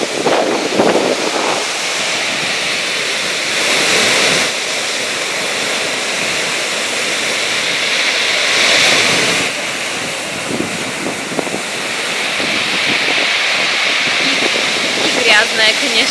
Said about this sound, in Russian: Смотрите, какие волны.